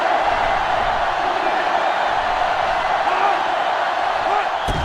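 A stadium crowd roaring in the college football video game NCAA Football 06, a Washington versus Nebraska matchup, as a dense, steady, loud wash of cheering that holds without a break.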